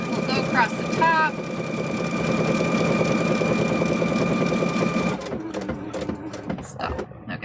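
A heavy-duty sewing machine stitches a car seat cover in a steady mechanical whir for about five seconds, then stops, leaving scattered handling noises.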